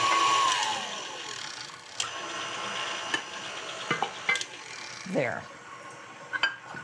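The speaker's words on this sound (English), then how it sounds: "we are going to stir in our melted butter" Melted butter is stirred into cake batter in a stand mixer bowl, giving a steady whirring churn with scrapes and small clicks. A voice speaks briefly.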